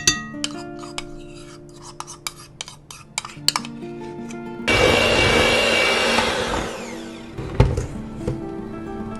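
An electric mixer beats cake batter made with sour cream, vanilla extract, baking powder and cornstarch for a blueberry cake. A loud, steady whirring drone kicks in midway after clinks and scrapes of utensils in a bowl.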